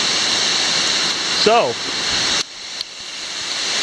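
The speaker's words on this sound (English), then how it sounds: "The waterfall here at Kubah National Park, Malaysia." Waterfall at Kubah National Park, Malaysia, a steady broadband rush of falling water close by, with a brief bird-like chirp partway through and a word or two of speech over it.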